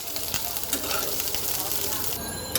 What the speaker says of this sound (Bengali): এখন চলো পেঁয়াজটাকে আগে ভাজি